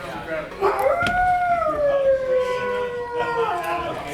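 A wolf howl sound effect played over speakers during a theatre sound check, rising and sliding down in a long tonal wail that fills most of the moment, with background room noise and voices faintly underneath.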